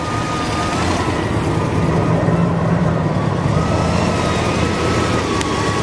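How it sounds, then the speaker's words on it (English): A 1963 Studebaker Avanti R2 engine with a dual belt-driven supercharger runs steadily, loud and close, with a constant supercharger whine layered over a deep rumble, no talking. "And the supercharger sounds great."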